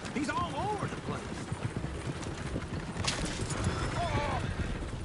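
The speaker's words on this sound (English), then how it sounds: "Oh, shit, the horses. Damn horses." Horses in the video game Red Dead Redemption 2 clip-clop steadily with repeated hoofbeats, and a couple of whinnies rise over the busy mix while people talk.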